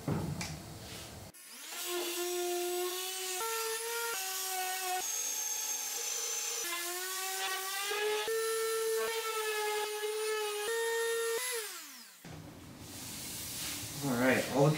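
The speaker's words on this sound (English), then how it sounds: "I'm gonna go ahead and do some sanding." Power sander working over wooden pieces for a handmade TV stand, a steady whining drone with shifting pitch that runs for about eleven seconds and stops abruptly, with brief handling noise before and after.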